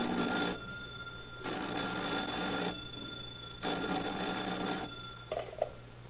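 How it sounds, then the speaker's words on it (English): An old-fashioned telephone bell rings in an office as a radio drama effect, three long insistent bursts separated by pauses, loud and close, with a brief clatter at the end like the receiver being lifted. "the telephone in the office of Sheriff Durley in Ventura rang an insistent summons"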